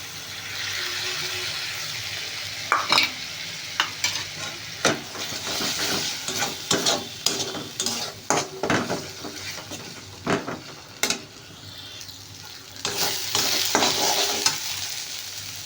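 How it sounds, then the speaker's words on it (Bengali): Ginger garlic paste frying in hot oil for a Bengali potato curry with peas, a steady close sizzle broken by repeated clattering stirs from a spatula in the pan, with no talk. "এবার দেবো আদা রসুন বাটাটা।"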